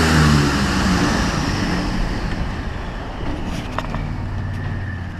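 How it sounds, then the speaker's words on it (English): A 2013 Ford F-150 FX4 mudding, its engine a loud, steady low roar that holds throughout with a slight swell at the start, with no speech over it. "Wait, rev it in here."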